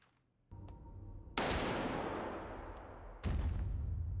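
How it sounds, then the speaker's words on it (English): Gunfire in a Squid Game TV episode: sharp, loud blasts that ring out and decay slowly, one at the middle and another near the end, with a quieter tone before them and no talking. "He's gonna shoot the other guy."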